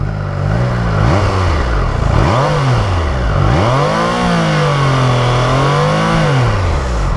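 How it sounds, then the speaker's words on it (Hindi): A 2022 Triumph Tiger Sport 660 motorcycle engine revs up and down repeatedly, its exhaust note rising and falling in pitch, loud and close, with no talking. "This is the exhaust note of the motorcycle."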